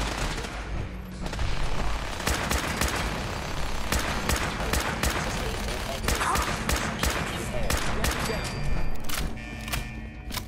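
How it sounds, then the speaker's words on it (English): A laser Gatling gun fires repeatedly in Fallout 4, a string of sharp, loud zapping shots in uneven bursts mixed with thuds, with a voice talking at times. "It's like a laser machine or laser freaking Gatling gun."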